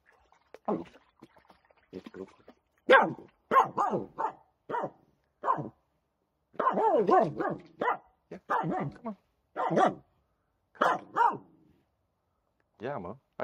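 A dog at a harbour gives a series of short barks and yips in irregular bursts with gaps between, close by, mixed with someone speaking.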